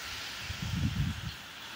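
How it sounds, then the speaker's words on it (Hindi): Heavy rain falls with a strong windstorm in Rajasthan, making a steady, fairly faint hiss. Gusty low rumbles swell through the middle and then ease. No one speaks. "ये देखो आज बहुत ही जोर की बारिश आ रही है और साथ ही आंधी भी चल रही है"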